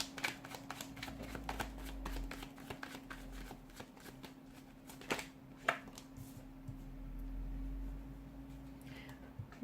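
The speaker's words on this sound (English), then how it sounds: "give the cards a shuffle" Cards shuffled repeatedly in quick riffling bursts, close and crisp, with a low steady hum underneath and a quieter stretch near the end.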